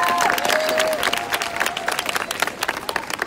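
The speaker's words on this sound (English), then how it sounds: "I'd like to give them a round of applause for being a couple of modern day heroes" Students at a high school walkout for survivors applaud outdoors, a crowd of many hands clapping in a loud dense patter with a faint sustained tone fading at the start.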